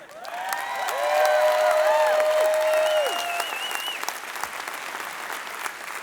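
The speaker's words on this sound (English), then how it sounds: "I hope you hear the applause." A large audience at a company event breaks into loud, sustained applause with cheers and shrill whistles rising over the clapping, peaking early and then easing to a steady, slightly softer ovation.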